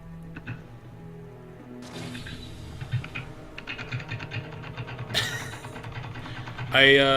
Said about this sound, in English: I can hear you thumping on your keyboard.